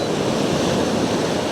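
Ocean waves break on rocks along the coast, a loud, continuous surging roar of white water with some wind noise.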